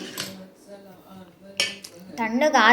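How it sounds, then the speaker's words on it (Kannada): Cooked homemade tomato sauce being spooned into a mixer jar, with metal spoon clinks and scrapes against the jar, a few sharp clanks and a louder clatter at the end, alongside brief speech. "ಒಂದು ಮಿಕ್ಸಿ ಜಾರಿಗೆ ಹಾಕ್ಕೊಳ್ಳೋಣ ಇದು ನಮಗೆ ರುಬ್ಲಿಕ್ಕೆ ಪೂರ್ತಿ ನಾನು ಜಾರಿಗೆ ಹಾಕ್ಕೊತಾ ಇದ್ದೀನಿ"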